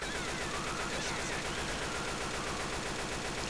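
Sustained automatic gunfire in the zombie shooter game Left 4 Dead empties a full magazine in a dense, rapid, unbroken stream of shots, loud and close throughout.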